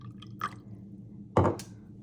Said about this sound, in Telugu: I'll just take little water here.